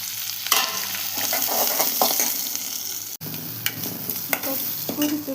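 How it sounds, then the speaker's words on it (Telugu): Grated coconut sizzling and frying in a hot tempering for spicy horse gram rasam, with steady crackle and occasional stirring scrapes, close and fairly loud, no talk. "ఇప్పుడు కొబ్బరి తురుము వేసుకోవాలి."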